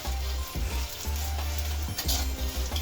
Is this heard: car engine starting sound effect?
no